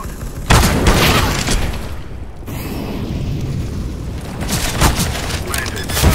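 A grenade goes off in the video game CS:GO with a loud, sharp boom that rolls into a long, noisy rumble lasting several seconds, followed by a second burst near the end.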